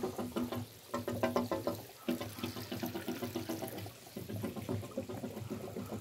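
Water gushes steadily from a hand-operated, non-electric water pump, a continuous close splashing pour with rhythmic surges and brief pauses, without speech over it.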